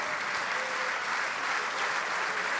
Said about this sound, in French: On peut l'applaudir bien fort quand même pour son français.